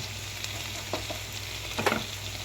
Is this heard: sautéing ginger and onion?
yes